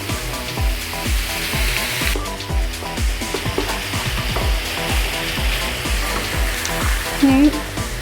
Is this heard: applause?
no